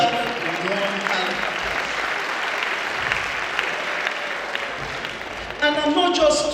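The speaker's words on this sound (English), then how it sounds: "Please give yourself a warm hand." An audience at the opening ceremony of a national pharmaceutical conference in Nigeria applauds, a steady, full round of clapping filling the hall, with a voice at a microphone resuming near the end.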